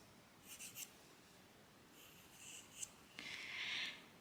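Pastel pencil scratching on paper while drawing a circle, faint, close strokes in a few short bursts with quiet pauses between them.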